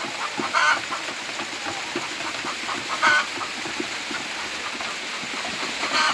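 Backyard laying hens, around a hundred or more in a family coop, keep up a low, steady clucking and murmuring with a few brief louder calls, heard at moderate distance over a constant outdoor background.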